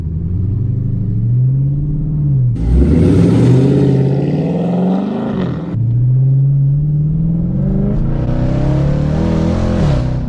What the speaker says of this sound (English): So I just got my exhaust installed and it sounds incredible.